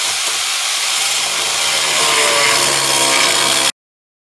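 A power saw with a cutting wheel grinds through the metal of a boat trailer, a loud, steady, harsh hiss close by that runs unbroken for several seconds and then stops abruptly.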